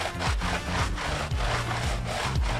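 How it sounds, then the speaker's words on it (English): Hard wire brush scrubbing foamy wheel cleaner into tire rubber, a close, continuous rasping back-and-forth scrub in quick rhythmic strokes with no talking. "soak my brush, my hard wire brush, and then just kind of scrub that rubber, get it nice and foamed up"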